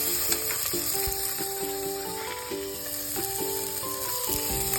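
Pork fat fries in a pan as its oil renders out, giving a continuous, fairly loud sizzle with soft stirring taps throughout, close to the mic and with no talking.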